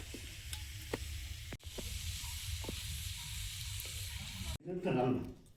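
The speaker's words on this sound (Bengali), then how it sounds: "গতকালকে ঝাল চচ্চড়িটা বেশি ছিল, তা এখন গরম করে নেব" Leftover spicy fish chorchori reheats in a pan with a steady close sizzle, broken by the light clicks of stirring and ending in a louder, brief hiss of frying.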